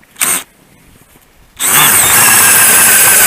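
Power drill boring a hole through lake ice on a first-ice fishing outing, a short burst and a pause, then a loud, steady, close grinding whine that continues to the end.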